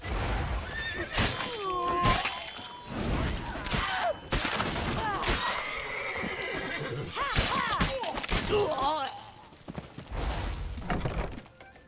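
A horse neighing and whinnying repeatedly in The Witcher 3: Wild Hunt, mixed with game combat clatter and hoof sounds. Loud, close calls recur throughout.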